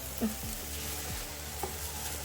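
Onions soften and fry in a pan for chili, giving a steady, faint sizzle with a few soft scrapes of stirring and no voices.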